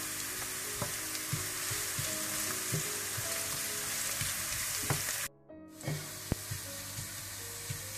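Onions frying in desi ghee for biryani, a dense, steady sizzle with repeated scraping stirs and a brief dropout before the frying resumes.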